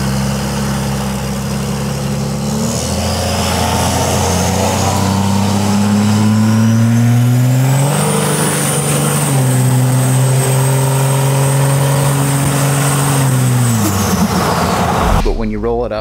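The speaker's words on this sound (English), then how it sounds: "So I have a diamond dye 4-inch exhaust on my red truck, and I really like it." Cummins dually pickup truck with a 4-inch exhaust, loud close diesel engine idling then revving up, holding a raised drone for several seconds and dropping back down.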